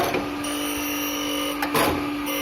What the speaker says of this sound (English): now the entire grinding wheel width is touching the workpiece.